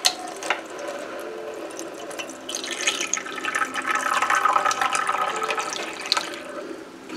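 Plain water is poured from cups into a baking dish of butternut squash halves set upside down in a home kitchen, making a steady splashing, trickling stream that swells in the middle and runs continuously, close and moderately loud.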